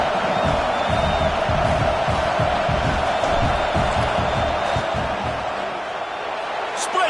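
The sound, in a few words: football stadium crowd cheering during field goal attempt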